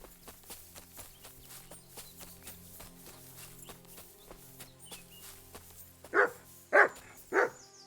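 Dog barking in the medieval world of the game Kingdom Come: Deliverance II, three loud sharp barks close together near the end, after a stretch of rhythmic footsteps or hoof clops over a low ambient hum, with no talking.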